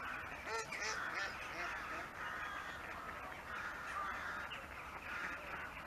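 Gulls calling over a lake, a dense, continuous chorus of squawking cries from a flock, fairly loud and steady throughout with no talking.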